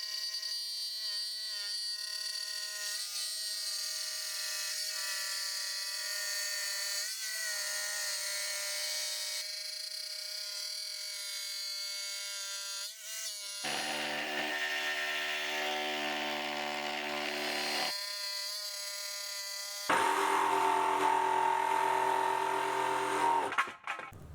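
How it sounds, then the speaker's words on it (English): Jigsaw fitted with a long wood-cutting blade slowly cutting the live edge of a wooden shelf, a steady buzzing whine that runs for over twenty seconds, shifting tone in sections and growing louder toward the end. "To make the cut look its best, a long wood cutting blade is used and set to a random angle. Slowly and following the drawn line, the edge is cut from end to end."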